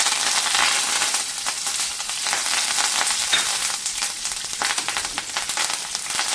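Chopped green chilies and curry leaves fry in hot oil in a pan, giving a continuous close crackling sizzle with small pops and stirring sounds, no voices.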